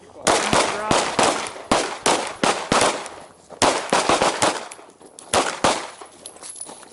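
Rapid pistol shots emptying a full magazine at an indoor shooting range, about a dozen sharp loud reports in an uneven fast rhythm, close by, with a voice urging the shooter on between shots.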